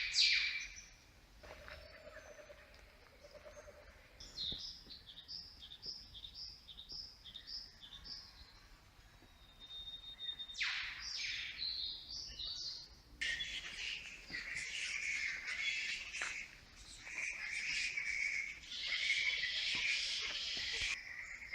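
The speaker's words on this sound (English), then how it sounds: "They have the most amount of rainforest birds I've ever heard in one place." A dense chorus of rainforest birds calling, with chirps, whistles and squawks layered over each other, steady and loud throughout.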